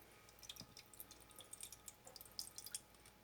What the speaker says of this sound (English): and then pour some water